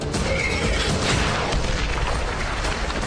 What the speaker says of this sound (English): One of the missiles scores a direct hit on the enemy bunker